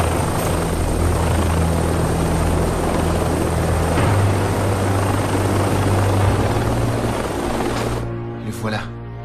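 A helicopter thrums loudly and steadily nearby with a low rotor drone and high turbine whine, cutting off near the end as voices break in.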